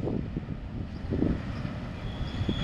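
A Norfolk Southern southbound intermodal freight train passes on the Sandusky line in Marion, Ohio, a steady broadband rumble with rolling rail noise and some wind buffeting the microphone, no voices.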